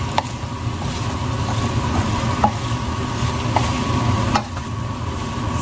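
Chicken curry ingredients frying in a pan are stirred, giving a steady close sizzle with a low rumbling bed and occasional light scrapes and clicks from the utensil.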